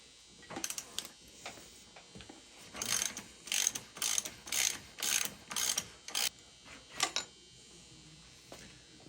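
Wrench and ratchet clicks while removing the front wheel of a worn-out Honda XR250 dirt bike being rebuilt for woods riding, in several bursts of fast ratcheting with short pauses between them.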